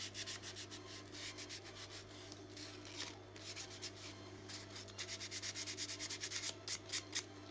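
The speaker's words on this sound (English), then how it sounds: "So I just kind of put the sandpaper inside and rotate it around like crazy." Sandpaper is rotated inside a small sculpted eyeball, giving faint, close, rhythmic rubbing and scratching strokes that speed into quick regular bursts toward the end.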